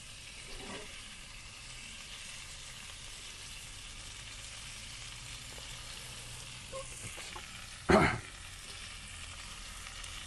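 Hamburger buns and fillings sizzle steadily in a pan on a stove inside a camper van, a soft continuous frying hiss with a brief louder clatter near the end.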